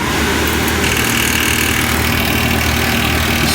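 A home furnace blower runs continuously with a steady mechanical rattle layered over a dense, constant whir, close and loud throughout, with no voices.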